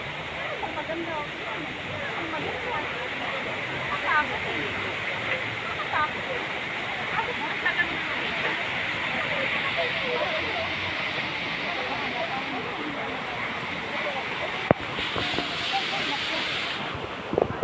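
Water rushes steadily over a dam in De Ocampo, Trece Martires City, a loud continuous roar and hiss close by, with a brief knock near the end.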